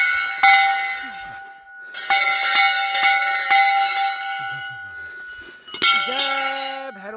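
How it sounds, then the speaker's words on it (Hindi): Temple bell at Bhairavnath temple, set between Almora and Chamoli districts, strikes several times with bright ringing tones that linger between hits, alongside other clanging bells and faint background voices. "और घंटी की ये आवाज़ सुन के ना बिल्कुल एकदम सा मन शांत हो जाता है"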